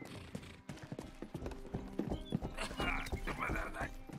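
Horse hooves clop in an uneven rhythm in the video game Rustler, followed by a whinny and some rustling game sounds; no clear speech over it.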